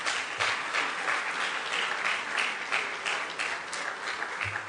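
A debate audience applauds to welcome journalist Raymond Zabi as moderator at a 2017 presidential debate, giving steady, dense clapping that fills the hall and holds at an even level throughout.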